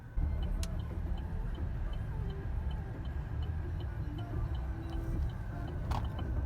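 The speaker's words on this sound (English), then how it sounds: "So I'm pulling into the customer's house now." A car pulls into a customer's driveway at a house, with a steady low engine and road rumble from inside the cabin and a few faint clicks over it.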